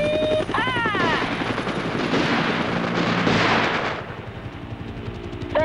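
Movie battle scene with a helicopter attacking people on a sand hill with machine gun fire, a dense, loud, continuous wash of rotor noise and rapid gunfire, with a brief shouted voice at the start.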